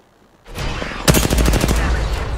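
Rapid automatic gunfire in a video game, a loud, close burst of quick repeated shots that starts after a short noisy lead-in and keeps rattling to the end.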